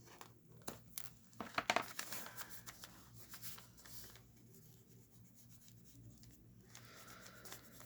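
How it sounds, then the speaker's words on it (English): Tape being pulled and pressed onto the pocket of a composition notebook, a burst of crinkly rubbing and tearing sounds early on, then quieter handling close by. "So we're just going to tape it down a little bit."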